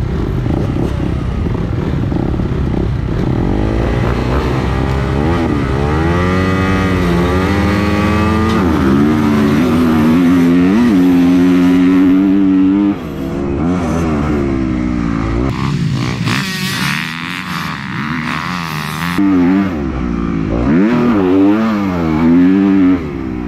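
A dirt motocross bike on a race track revs hard as the clutch is dropped, the engine note rising and falling through loud, near throttle surges with a brief dip midway, and no talk.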